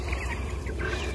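Young chicks at the awkward growing stage cluck and chatter together while jostling over feed, a brief close burst of busy fowl calls.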